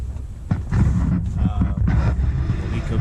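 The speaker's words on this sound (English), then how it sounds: "It's a little bit windy, not too bad." Wind buffets a microphone in low rumbling gusts at a boat anchorage, steady and close throughout the short stretch.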